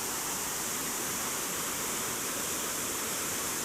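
Rushing water of a shallow, slow-moving river current, a steady full-bodied hiss that fills the whole clip without pause or change, close by and fairly loud, with no voices.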